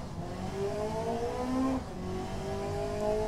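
A 1972 Marina car engine in Automation accelerating hard: a buzzing engine note climbs steadily in pitch through repeated gear changes, moderately loud and continuous with no talk.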